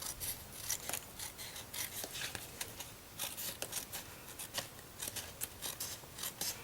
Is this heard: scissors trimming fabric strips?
yes